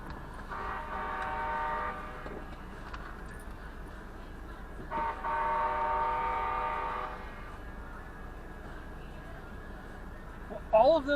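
A MAX light rail train rumbles through an intersection with two long horn blasts, the first near the start and the second midway, over steady street noise and a brief clatter at the end.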